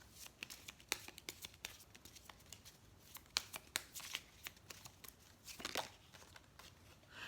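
Love Story cards shuffled for a card reading, a close run of quick papery riffles and flicks in uneven bursts, fairly quiet.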